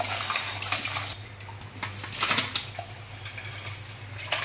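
Blue sea crabs being rinsed under running water, giving a steady splashing gush with knocks and rattles of shells, close and fairly loud throughout.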